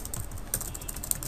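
Keyboard typing in the Vim editor while writing C code, with a steady run of soft, close key clicks and a few sharper taps, no voices.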